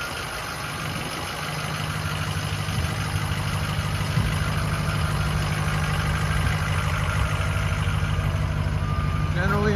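A Ford F-350 Super Duty dump truck with a stake body and extended cab idles nearby, a steady low diesel rumble under a voice speaking over it at an outdoor auction.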